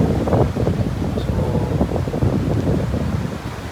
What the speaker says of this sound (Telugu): నాకు తెలిసి బాగా గాలి వస్తుండొచ్చు, మీకు వినిపిస్తుందో లేదో తెలీదు.